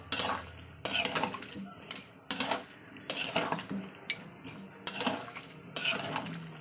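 Cubed meat and four cut potatoes are mixed together in a pan, giving repeated bursts of metal spoon scraping and clinking against cookware with short pauses between strokes.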